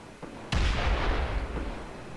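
A heavy torpedo fires and strikes its target in the space-combat game Space Engineers. A sudden loud blast gives way to a sustained, roaring low rumble that slowly fades, with no talking.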